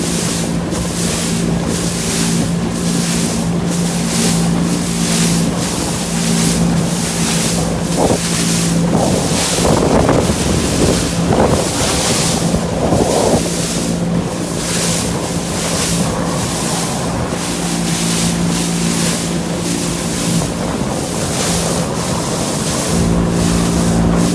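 A small boat bounces over choppy waves on a Scottish loch, with a constant loud engine drone, heavy wind buffeting and regularly repeating thumps of the hull slapping the water.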